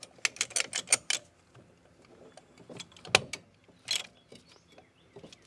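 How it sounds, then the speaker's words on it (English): A caliper retracting tool is worked to push back the brake caliper pistons during a front brake job, giving a series of sharp metallic clicks and ratcheting clacks in uneven bursts, close and moderately loud. "I take my caliper retracting tool"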